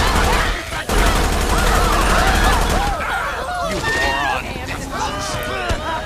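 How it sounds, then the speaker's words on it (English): Dense, chaotic volleys of overlapping gunshots during a violent protest shootout in GTA 5 with the LSPDFR police mod, loud and near, surrounded by shouting crowd voices and game noise, with people talking throughout. "Shots fired."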